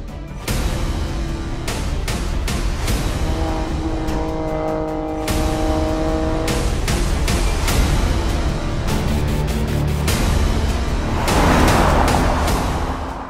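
A 2019 Alfa Romeo Stelvio Quadrifoglio with its 510-horsepower 2.9-litre V6 biturbo engine drives up the Stelvio Pass, the engine pulling loud and close with rising revs and several quick gear changes.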